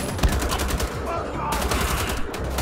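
Rapid automatic gunfire in Wolfenstein: The Old Blood, a dense, loud burst of shots with a brief break midway before firing resumes.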